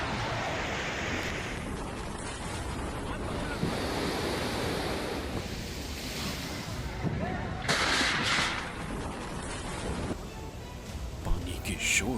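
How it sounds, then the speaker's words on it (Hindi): A swollen, muddy river in flood during Cyclone Biparjoy gives off a loud, continuous roar. Wind buffets the microphone in gusts, and a voice speaks over the rushing water. "पानी के शोर को सुनिए जो डराने वाला है।"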